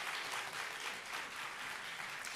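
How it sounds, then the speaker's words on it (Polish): Steady applause from the audience at a university academic-year inauguration ceremony, a full, continuous patter of many hands clapping, fairly distant and soft in level, with no speech over it. "Raz jeszcze wielkie brawa dla dr Marty Sałkowskiej"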